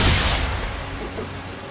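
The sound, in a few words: ship cannons firing in video game Assassin's Creed 3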